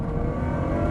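A Ferrari FF's naturally aspirated V12 engine revving hard, a dense, loud, steady mechanical roar heard from close by, with no talking over it.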